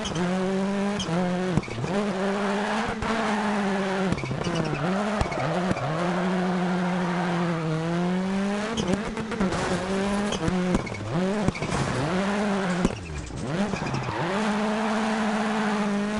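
Peugeot rally car in Dirt Rally 2.0, its engine droning and rising and falling steadily through gear changes with a faint squeak between shifts, tires skidding and squealing beneath, loud and continuous with no voices.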